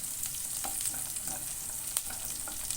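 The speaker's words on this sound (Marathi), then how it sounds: "लसूण चांगला फ्राय करून घ्यायची" Garlic and asafoetida fry in hot oil with a continuous, fairly quiet sizzle and crackle, broken by a few light stirring scrapes close by.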